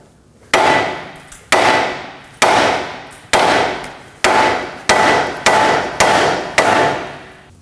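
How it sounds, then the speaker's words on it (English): A hammer strikes the steering knuckle of an Acura MDX to pop the outer tie rod loose: eight sharp metallic blows at a steady, slightly quickening pace, each ringing briefly before the next, loud and close. "we're going to tap right in this area. That's going to pop the outer tie rod"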